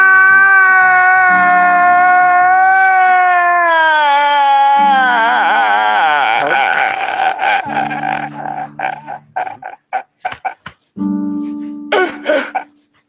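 A man vocally imitates his own crying with exaggerated wailing, loud and close, that starts long and drawn out and then breaks into choppy sobbing bursts.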